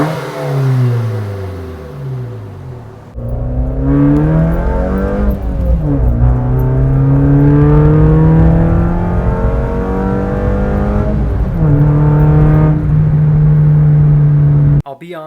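A Mazda2 engine fitted with a DDM Works short ram intake revs up and down repeatedly, a loud close rumble rising and falling over about fifteen seconds, with a brief moment of talking near the start.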